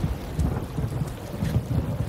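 Heavy rain hisses steadily in a video game while low thunder rumbles underneath in rolling surges, a dense, continuous storm bed with no voices.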